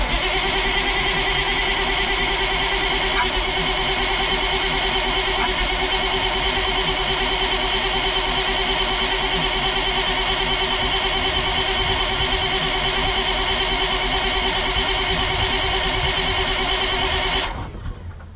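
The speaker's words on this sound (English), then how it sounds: "So let's start cranking on this engine and see if it'll fire up." A Ford cabover truck with a newly swapped engine cranks on its starter in one long, steady, whirring drone for about seventeen seconds without catching, then cuts off.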